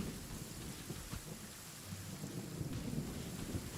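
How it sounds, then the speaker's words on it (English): Rain falls steadily in the video game Genshin Impact, a faint continuous hiss of downpour with low rumbles of thunder rolling underneath. "It always rains when I go on an adventure."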